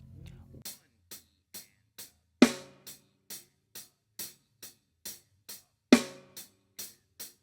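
A beginner drum-kit groove plays steady crisp hi-hat ticks, with two loud snare cracks landing on beats 2 and 4, close and solo with no voices.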